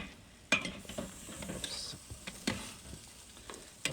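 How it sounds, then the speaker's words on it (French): Paella is stirred in a pan over a wood fire, a soft sizzle under scattered scraping and clinking strokes of the spoon against the pan, close and fairly quiet. "Donc, on mélange bien le tout."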